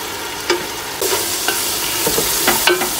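Ginger and garlic fry in a pan for a chicken korma pilau, a steady close sizzle broken by a few sharp scrapes and stirring knocks, with no one talking.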